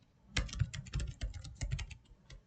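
Code is being typed on a computer keyboard, a rapid, uneven run of close, crisp key clicks with short pauses between bursts, with no voices.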